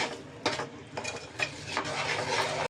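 Rock salt is stirred into a bitter gourd masala in a pan, with repeated scraping strokes of a spoon against the metal over a soft, continuous sizzle.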